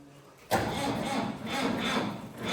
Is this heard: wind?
no